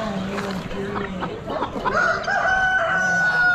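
Amherst red golden cross chickens cluck and call at close range, with a crowing note near the end, amid farm-auction background sound and a voice.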